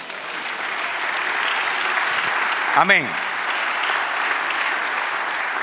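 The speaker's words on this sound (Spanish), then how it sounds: "Denle un aplauso al Señor." Continuous applause from a church congregation during a sermon, an even wash of clapping throughout, with a brief voice and a short rising tonal sweep near the middle.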